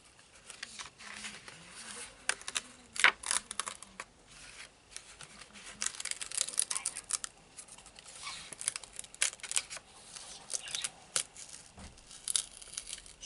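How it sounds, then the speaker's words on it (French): Paper page being torn out of a book or pad, with crinkling and ripping noises in short bursts, fairly close and moderately loud, with no talking. "Je suis en train d'arracher la page."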